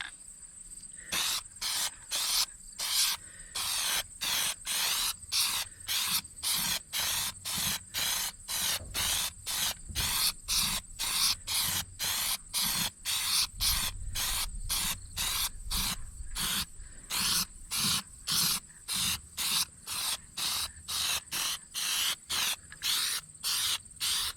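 A light tack coat of PlastiDip is sprayed from an aerosol can in a long series of short, regular hissing bursts, each separated by a brief pause, close and fairly loud with no talk.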